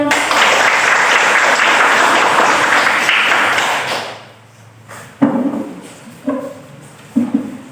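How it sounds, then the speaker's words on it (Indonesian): A school classroom audience applauds a group presentation with loud, dense clapping for about four seconds. It then fades to scattered single claps and a few late bursts. "Berikan tepuk tangan dulu"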